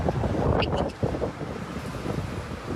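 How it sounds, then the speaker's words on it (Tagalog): Strong wind buffets the microphone in a loud, continuous roar with gusty swells, blotting out other sounds. "Sana naririnig niyo ako kasi ang lakas ng hangin."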